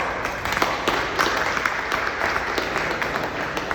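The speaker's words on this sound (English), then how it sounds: "Give Wes an applause." Dense, steady applause from an audience at a school keynote at Blythe Academy in Burlington, sustained and fairly loud throughout, with no speech over it.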